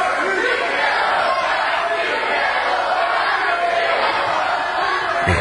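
A wrestling crowd at a W3L show chants and roars in a large hall, a loud, continuous wash of voices that swells and ebbs rhythmically with no pause.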